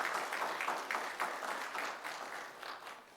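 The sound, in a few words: applause at city commission meeting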